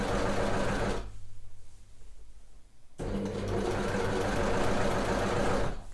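Overlocker sewing machine stitching a sweatshirt sleeve seam with a 1.5 cm seam allowance: a loud, steady motor whir runs, stops for about two seconds of near quiet, then resumes and continues to the end.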